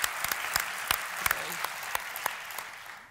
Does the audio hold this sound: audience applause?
yes